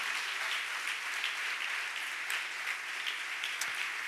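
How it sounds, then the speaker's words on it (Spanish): Congregation clapping in praise to the Lord during a Sunday church service, a dense, steady applause continuing evenly at moderate volume throughout, with no voices over it. "Fuerte ese aplauso de alabanza al Señor."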